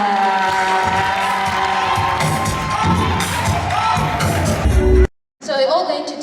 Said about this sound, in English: A warm round of applause for Nozi